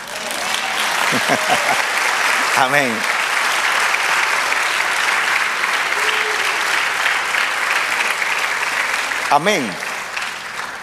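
A church congregation breaks into loud, sustained applause that fills the room evenly for the whole stretch, with a few voices calling out briefly on top of the clapping.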